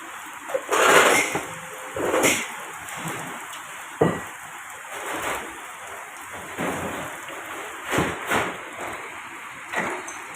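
Rain begins to fall outdoors under a cloudy sky, a steady hiss of drops broken by several louder gusty bursts and rumbles, with no voices.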